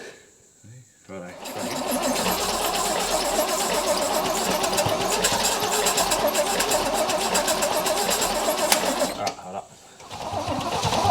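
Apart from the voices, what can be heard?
Holden HT ute engine cranking, trying to start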